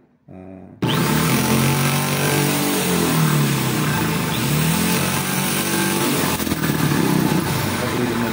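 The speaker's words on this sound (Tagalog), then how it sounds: "Gagamitin po natin, susubukan natin butas sa metal." An impact drill bores a hole in metal, starting with a short whir and then holding a loud, continuous motor whine close by that shifts pitch as it works; no voices.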